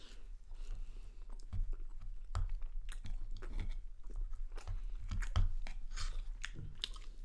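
Close, steady chewing and crunching of canned stewed meat with onion and bread, soft wet bites repeating through the whole stretch with no talk.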